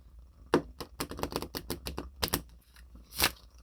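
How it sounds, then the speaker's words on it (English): A rapid series of crisp riffles and soft slaps from shuffling tarot cards, irregular bursts of papery clicks close by, with no voices. "shuffle these cards a little bit."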